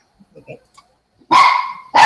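A dog barks twice, close and loud, after a few faint, scattered sounds.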